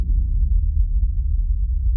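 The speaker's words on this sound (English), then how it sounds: "Nice deep resonant boom there." A deep, resonant synthesized boom from the Vektor 2 Kontakt library fills the low end, sustained and steady for about two seconds with no other sounds.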